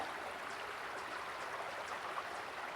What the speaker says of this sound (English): I found this beautiful creek.